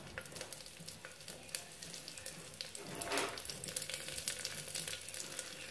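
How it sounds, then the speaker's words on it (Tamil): Cumin seeds and small garlic cloves sizzle and crackle in hot frying oil, a faint, steady spitting hiss with a brief swell of stirring midway. "இப்போ பாருங்கள், சீரகம் நல்லா பொரிஞ்சிருச்சு."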